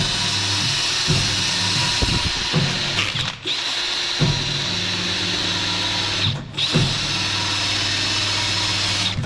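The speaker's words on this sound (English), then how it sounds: "You can use a wire brush, but it's quicker with one of these drills if you've got one" A power drill fitted with a wire brush scours rust and corrosion from a car wheel hub during a tyre change, with a loud, steady grinding whir broken by two brief pauses and scraping rattles.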